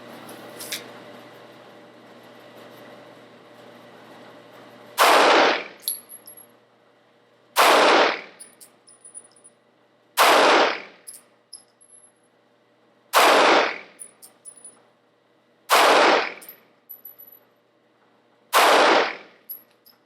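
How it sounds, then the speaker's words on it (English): A Glock 43 9mm pistol fires six rounds at a target, each loud sharp shot spaced about two and a half seconds apart, followed by brief tinkling of ejected brass after a quiet start. "I'm just going to fire 6 rounds at the target with the Glock"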